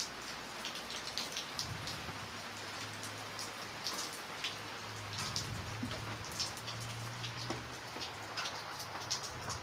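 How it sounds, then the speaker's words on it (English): Light rain falls as a soft, even ambience, a constant hiss dotted with scattered faint droplet ticks, quiet and unbroken throughout. "Light rain"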